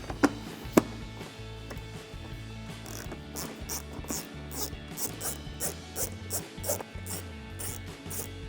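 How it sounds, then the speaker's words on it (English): Ratchet loosening 10 mm bolts on a Toyota Tundra splash guard, heard as faint repeated clicking strokes in a loose rhythm under a low background hum. "So I'm going to take my ratchet and 10 millimeter and remove these 4 bolts."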